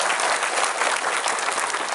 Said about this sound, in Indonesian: Jadi tepuk tangan untuk musisi-musisi kita di Jakarta.